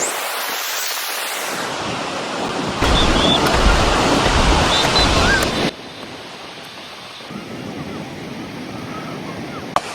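Rough sea waves break at a beach, a loud, continuous wash of surf with wind noise on the microphone, the roar swelling and easing over time.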